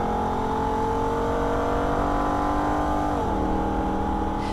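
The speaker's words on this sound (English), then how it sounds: "nothing sounds better than that smooth, revving induction that only a V8 can provide" A Holden ute's V8 engine drones at steady revs, a smooth constant hum, then the pitch drops noticeably as the revs fall near the end.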